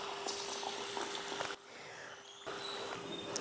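Samosas drop into hot oil and fry with a dense, crackling bubble that fills the moment, briefly dipping quieter before the busy sizzling returns, close by and without voices.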